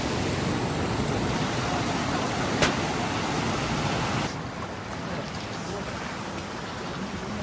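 Floodwater of the overflowing Barak River in Senapati rushes over a submerged bridge, a loud, steady broadband roar of torrential flow, close by, continuous throughout and easing slightly partway through.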